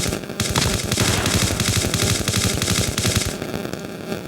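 Rapid, continuous machine gun fire in Call of Duty Mobile rattles loudly for several seconds with echoing bursts, then tapers off near the end.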